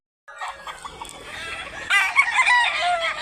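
Roosters and chickens at a poultry market in Mantalungon, Barili, Cebu crow and cluck close by, several birds overlapping into a loud, busy chorus that swells toward the end.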